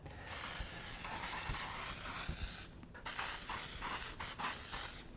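Ease Release mold release agent sprayed onto a mold before an epoxy resin casting: a steady close hiss for about two and a half seconds, a brief pause, then a second hissing burst with a few quick breaks.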